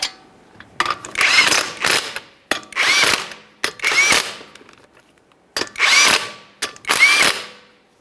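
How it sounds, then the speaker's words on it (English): A power tool drives 19mm lug nuts on a Ford Fusion wheel in five loud, close bursts of whirring and ratcheting, separated by short pauses. "Start on all 5 of our 19mm lug nuts."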